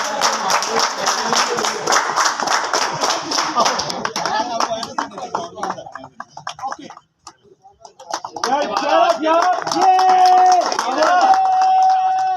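Spectators clapping at a local cricket match in Lahore, a dense burst of applause over crowd chatter that dies down briefly, then resumes with voices and a faint whistle-like tone.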